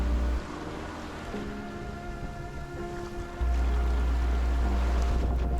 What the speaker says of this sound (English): just the sound of the wind and the waves, no engine running